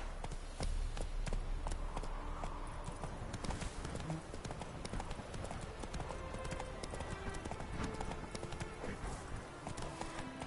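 Roach, a horse in The Witcher 3, gallops with steady, close clip-clop hoofbeats throughout, set against a continuous game ambience.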